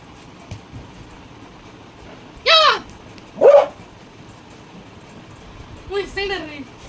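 A dog gives three short sharp barks or yelps at separated moments, close and fairly loud, against quiet household background with faint voices.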